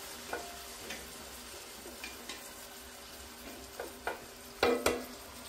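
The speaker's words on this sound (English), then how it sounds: "now we stir these onions" Onions being stirred and fried in a pot, with a soft sizzle under repeated spoon scrapes that grow louder toward the end, heard up close with no talking.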